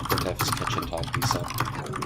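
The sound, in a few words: typing on a computer keyboard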